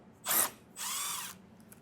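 Two short bursts of a power drill driving a T15 Torx bit to remove screws while installing a trailer hitch on a 2025 GMC Terrain, the first brief and the second longer and steady, heard close with no talk.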